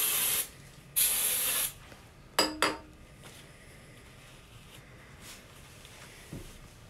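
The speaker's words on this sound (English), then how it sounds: "I'll just give them a quick clean up with some brake cleaner." Brake cleaner sprayed onto the top main bearings of an engine being rebuilt: two close, loud hissing aerosol bursts, each roughly a second long, followed by a few sharp metallic clinks and faint handling noises.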